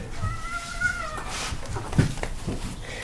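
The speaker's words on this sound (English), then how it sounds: "that's my cat in the background." A pet cat meows in the background, a couple of drawn-out wavering cries followed by shorter calls, moderately close amid household noise with no clear speech.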